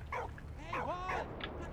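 A dog in the World War I video game Valiant Hearts: The Great War gives a few quick whimpering yips and a rising whine, fairly quiet and close, over soft game ambience.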